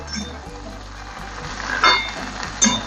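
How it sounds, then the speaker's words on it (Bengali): Sliced bitter gourd and pumpkin stirred in hot oil for a Bengali curry, a soft steady sizzle with a couple of sharper scraping clinks from the spoon. "তেলের মধ্যে নাড়িয়ে নিতে হবে"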